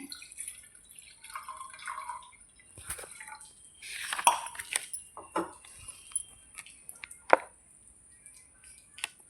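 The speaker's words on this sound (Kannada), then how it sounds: "ಇವಾಗ ನಾನು ಈ ಪಾತ್ರೆಗೆ 1 ಲೋಟ ನೀರು ಸೇರಿಸ್ತಾ ಇದ್ದೇನೆ." A glass of water is poured into a vessel while making a hair-care mix, heard as scattered splashes, drips and plops with a brief burst of pouring, plus faint clinks in a quiet room.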